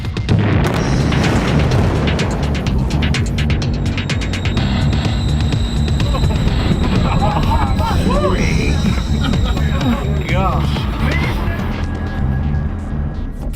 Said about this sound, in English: Chemical explosions like this produce a powerful shockwave.